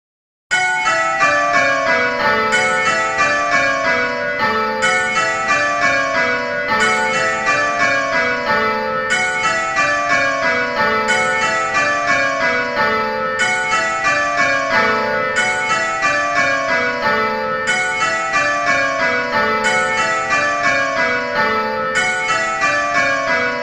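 Simulated church bells ring changes in Abel, a steady, evenly paced cascade of bell strikes repeating row after row for over twenty seconds, loud and close with no talking.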